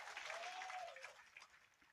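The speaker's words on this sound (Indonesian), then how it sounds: "Tepuk tangan sik ora apa-apa." An audience at a humorous religious sermon gives a short, faint round of clapping, a soft, dense patter that slowly thins out over two seconds, heard from a distance.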